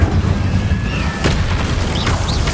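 An Incendio fire spell cast in Hogwarts Legacy: a loud, booming burst with a whooshing roar that holds steady for a couple of seconds, plus a brief sharp crackle midway.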